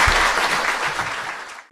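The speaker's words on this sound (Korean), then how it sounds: "후원하실 분 후원해 주시고 박수 부탁드립니다" A studio audience at a Korean talk show claps in sustained, dense applause that gradually fades before cutting off abruptly near the end.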